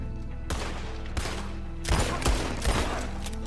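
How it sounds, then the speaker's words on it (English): Gunfire in Red Dead Redemption 2 cracks out as a string of close, punchy shots in an irregular rhythm over a steady low background. "Nice shooting, Arthur."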